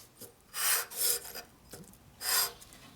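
A file rasps across the sealing surface of a Harley-Davidson Linkert M-88 carburetor from a 1942 WLC/WLA 45ci, three separate rough scraping strokes, fairly close and with no talk.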